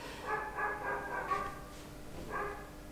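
A small dog barks and yips in short bursts indoors, several quick barks close by, fairly quiet, with no talking over it.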